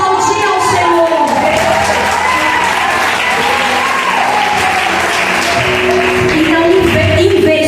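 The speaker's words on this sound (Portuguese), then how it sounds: "Quem recebe isso pode aplaudir ao Senhor." A church congregation at a women's worship service applauds steadily and loudly throughout, with some cheering and a voice heard faintly through the clapping.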